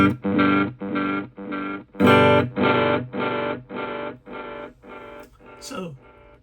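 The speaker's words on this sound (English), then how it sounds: "the delay or the echo for the D-tape is more of a grit sound" Electric guitar played through an M-VAVE Elemental pedal on its D-tape delay with grit, a series of distorted chord stabs each trailed by gritty echoes, close and fairly loud, fading toward the end.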